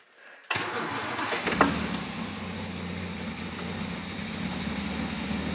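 A classic Austin Healey engine cranks after a brief quiet start, then catches and settles into a steady, loud low idle around 600 to 700 RPM, heard close up with no talking.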